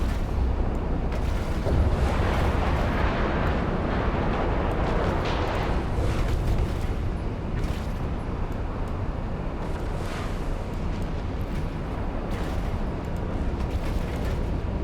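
Rocket and missile fire in a space battle in EVE Online, a steady roar of booming launches and impacts rolling continuously, dense and loud throughout with no pauses.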